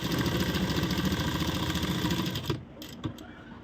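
A sewing machine runs steadily while stitching a kurti collar, its whirring hum continuous and close, then halts abruptly, leaving a few faint clicks and handling noises.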